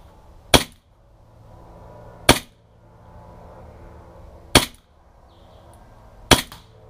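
WE double barrel 1911 gas blowback airsoft pistol fires four loud, sharp, close cracks spaced about two seconds apart, each a snappy report with a short mechanical rattle, and quiet in between.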